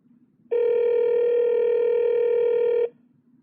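An iPhone plays a steady call tone after a phone number is tapped in a text message. The single electronic tone holds unbroken for about two seconds and stops cleanly, loud and alone.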